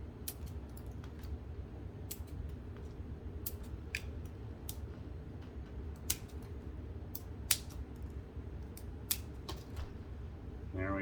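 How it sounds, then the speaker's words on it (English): Scissors snipping off the excess ends of zip ties on a homemade moss pole for climbing plants, a series of sharp, isolated clicks scattered irregularly over a quiet background hum. "all you need to do is just cut off the excess of all the zip ties here."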